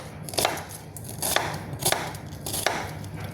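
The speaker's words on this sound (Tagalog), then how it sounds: "Hiwa na tayo, guys. Kasi gusto ko siya pag nakahiwa siya," A knife chops food into small cubes on a cutting board, giving several crisp, evenly spaced strikes close by with quiet pauses between them.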